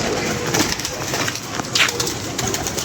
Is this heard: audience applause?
no